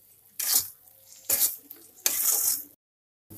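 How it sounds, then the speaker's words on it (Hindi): Masala frying in a pan for jackfruit kofta curry, stirred in three separate bursts of loud close hiss and scraping, each fading into quieter sizzle, with a brief silent gap before the last. "इसे अच्छे से मिक्स कर लेते हैं। इसे थोड़ा भून लेते हैं"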